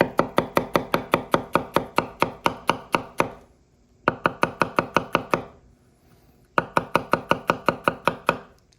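A kitchen knife chops an onion on a board in three quick, even runs of crisp taps, each run ten or more strokes long, with brief pauses between them.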